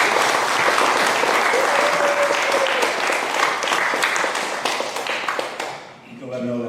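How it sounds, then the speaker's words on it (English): Wedding guests at a Toronto celebration applaud for Anastasia, a dense, loud burst of many hands clapping that holds steady and then tapers off. "So if I want to actually give a few claps for Anastasia,"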